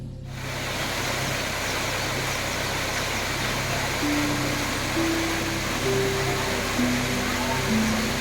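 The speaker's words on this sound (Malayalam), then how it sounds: "പാറക്കെട്ടുകളിലൂടെ പതഞ്ഞു തുളുമ്പി വരുന്ന വെള്ളത്തിന്റെ ശബ്ദവും" A waterfall near the Siruvani forest and dam pours over rocks in a steady, loud, broadband rush that fills the whole stretch, with faint tonal hums underneath.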